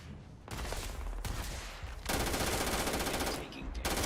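Rapid automatic gunfire in the sci-fi video game Starfield, a dense, loud stream of shots running almost the whole time with brief shifts in intensity.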